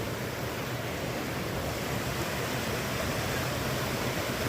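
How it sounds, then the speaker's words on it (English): Continuous broadband rush of a flowing river beside a hiking trail in Vermont, steady and fairly close with no voices over it. "Most beautiful river I've seen on the trail so far."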